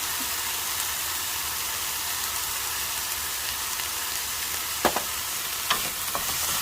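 Mushrooms and shrimp stir-frying in a pan for mixed vegetables with oyster sauce, a steady close sizzle with occasional sharp scrapes and clicks of the spatula stirring, no talking.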